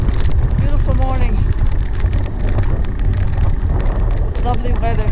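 Strong wind buffets the microphone outdoors on a calm morning ride, a steady low roar throughout with a person talking over it.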